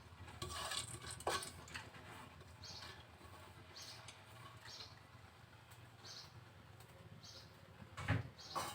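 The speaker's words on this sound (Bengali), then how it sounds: "এখন ধুয়ে রেখেছি ডাল, মসুরের ডাল, ডালটা দিয়ে দিচ্ছি।" Washed masoor dal (red lentils) tipped into a pan with cut potatoes, a few soft patters and clinks, faint and close, with quiet kitchen handling between.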